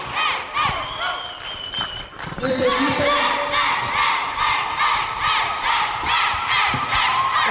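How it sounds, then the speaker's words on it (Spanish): Fair crowd at a children's team event in Acatlán cheering, shouting and clapping loudly and continuously, with an announcer's voice briefly over the noise. "Le damos un fuerte aplauso, por favor."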